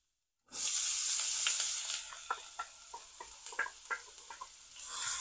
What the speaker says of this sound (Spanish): Ahora voy a poner el diente de ajo para que se vaya guisando